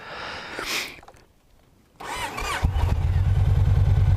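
A 1900cc motorcycle engine cranks with a whirring starter, then fires and settles into a loud, close, steady idle rumble.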